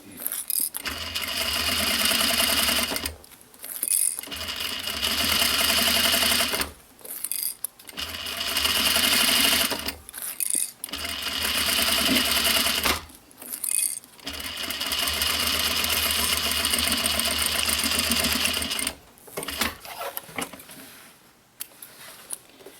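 A sewing machine stitches a recycled denim pouch's lining and exterior together, running in several long loud bursts separated by short pauses, with a final quieter stretch.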